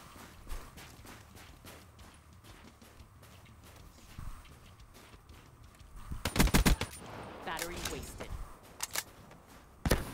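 Rapid gunfire crackles from the player's campaign weapon in Black Ops 3, a string of clipped shots early on, then a louder, denser volley of bursts from about six seconds on, fairly close.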